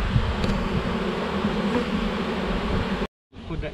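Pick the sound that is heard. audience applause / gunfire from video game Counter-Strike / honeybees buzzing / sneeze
honeybees buzzing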